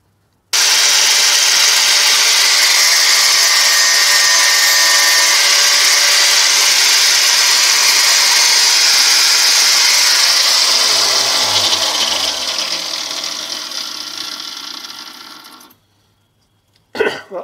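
A sander roughly shapes a knife blade made from an old metalworking file, giving a loud, continuous abrasive grinding roar that slowly softens and drops in pitch toward the end before stopping abruptly, with a brief knock afterward.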